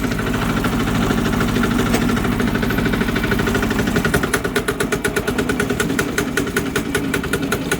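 A Chinese diesel engine runs steadily close by with a dense, rumbling drone that settles into a distinct rhythmic chug and knock partway through, with no voices.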